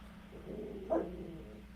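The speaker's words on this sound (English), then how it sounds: "my dog's barking here" A dog barks once, briefly and at moderate distance, in a quiet indoor room with steady low background hum.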